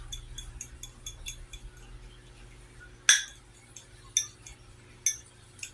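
Three eggs with their yolks are whisked in a bowl: quick, faint metallic ticks of the whisk against the side, broken by a few sharper, louder clinks.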